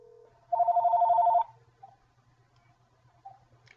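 A desk phone system dialing out to a conference test number gives a steady electronic tone lasting about a second, followed by a couple of faint short beeps in an otherwise quiet room.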